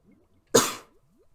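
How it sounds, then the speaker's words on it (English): A single sharp cough from someone with a cold, loud and close, standing alone against near silence. "Apologize for the coughing in this video"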